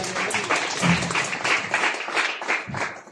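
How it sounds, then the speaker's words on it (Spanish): A church congregation applauds steadily for about three seconds, many hands clapping together in a dense, continuous burst. "Un voto de aplauso."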